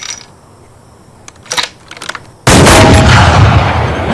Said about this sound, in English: Reacher practices long-range shooting and proves he can match the sniper's shots